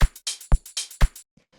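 Drum group in a textured electronic style: three deep kicks about half a second apart, each followed by bright noisy hat or snare washes, ending in a few faint soft ticks.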